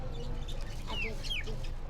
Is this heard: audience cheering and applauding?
no